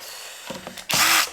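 A DeWalt impact driver drives a screw, with a brief spin-up and then a loud, dense burst of rapid hammering that ends abruptly after a moment, close to the listener and with no talking.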